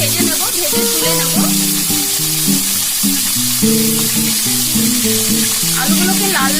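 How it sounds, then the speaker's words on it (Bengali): Potatoes frying in mustard oil in a wok give a steady, close sizzle that holds for the whole stretch, sitting beneath a tuneful background melody. "আলুগুলো ভেজে নেব, ভেজে তুলে নেব।"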